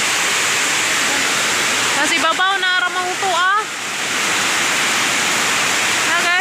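Very heavy rain pours down in a dense, loud, continuous roar with no letup, close by; a voice speaks over it partway through.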